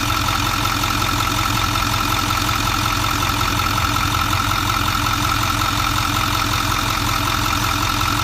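A Ford 6.4 diesel engine with heavy blow-by runs at a steady idle, a continuous close, loud mechanical drone with a rapid even knock and clatter underneath and no talking.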